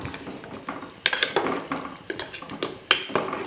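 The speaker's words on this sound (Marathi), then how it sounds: "हे ढवळून घेऊयात." A spoon stirs mutton curry in a metal pot, producing a run of irregular scraping clinks and taps against the sides, close and fairly loud, with no talking.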